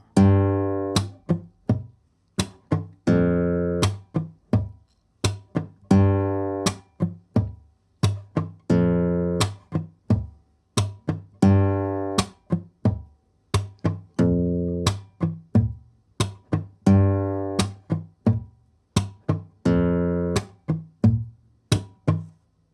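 Acoustic guitar plays a steady percussive pattern, with plucked notes mixed with sharp clicks and muted, deadened strums in a repeating rhythm.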